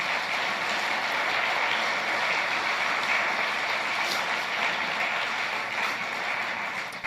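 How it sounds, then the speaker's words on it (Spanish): A church congregation breaks into sustained applause, a dense, steady wash of many clapping hands filling the room evenly for several seconds before trailing slightly at the end, with no speech. "Dele un aplauso a nuestro Dios."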